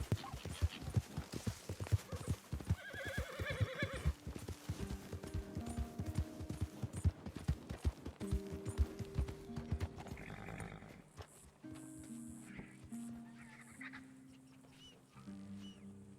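In Red Dead Redemption 2, a horse's hooves clip-clop in a quick, uneven rhythm, with brief neighs and other animal calls layered over the game's ambient sound.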